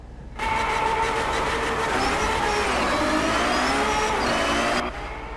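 A Ferrari 599 XX Evoluzione with a 6-litre V12 roars steadily on the Munnar, India track in Drive Club, a loud sustained engine note holding for several seconds before cutting off.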